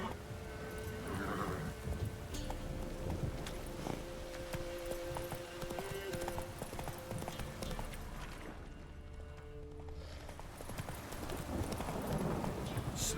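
Hoofbeats of Roach, a horse galloping in The Witcher 3, clop in a steady rhythm across most of the stretch under game music and ambient noise, dipping briefly toward the end before picking back up.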